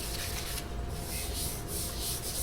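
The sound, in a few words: sanding a guitar finish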